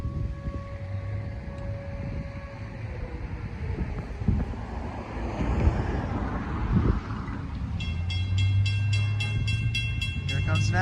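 Long Island Rail Road DE30AC diesel locomotive No. 422 rumbling toward and through the Old Neck Road crossing in Center Moriches, its low engine drone swelling and a loud horn sounding in a series of blasts near the end.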